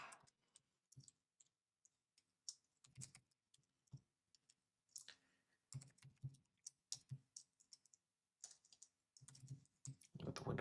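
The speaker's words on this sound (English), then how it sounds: "I am just not capable of typing today" Bursts of rapid keystrokes on a computer keyboard, uneven clusters of clicks separated by short pauses, close and fairly quiet, with no talking.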